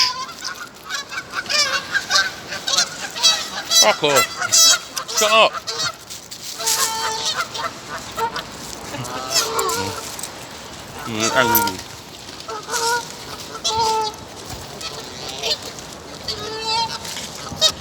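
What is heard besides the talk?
wild birds, likely geese, honking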